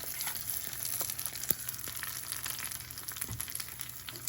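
Hot tempering of dried red chillies, curry leaves and mustard seeds poured into a tangy black-eyed pea curry, giving a continuous soft sizzle and crackle with a few sharper pops, fairly quiet and alone.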